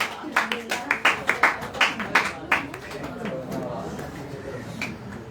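Church congregation clapping in a loose rhythm, a run of distinct claps at the start that thins into a scattered patter, with murmuring voices beneath.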